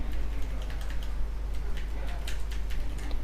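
Typing on a computer keyboard: quick, irregular key clicks tapping throughout, close and clear over a low steady hum.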